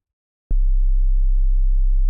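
A boosted sub bass synth patch built in Serum 2 cuts in after a half-second of silence, a loud, pure, deep sine-like tone held steady to the end.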